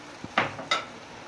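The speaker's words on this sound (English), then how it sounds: "you add 1 cup of water and you stir it over" A spoon clinks and scrapes against a cooking pot of zucchini and chocho while water is stirred in, three quick metallic knocks heard close with no talk.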